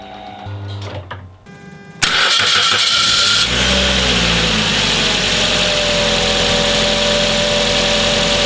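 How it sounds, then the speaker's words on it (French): An Opel Agila engine in a garage cranks and catches after a couple of seconds of quiet, then settles into a loud, steady idle that runs to the end. "On va regarder ce que ça donne quand le moteur démarre et tourne au ralenti."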